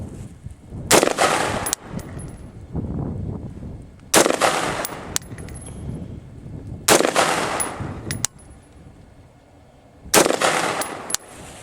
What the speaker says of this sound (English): We're going to do 5 slow shots and see how that works.